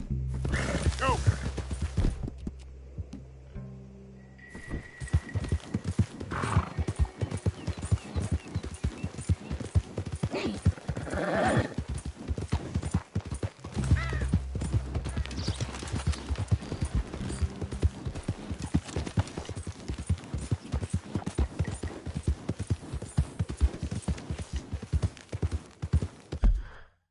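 Horse galloping in Red Dead Redemption 2, rapid rhythmic hoofbeats running steadily for most of the stretch after a brief pause near the start, with a voice speaking over parts of it.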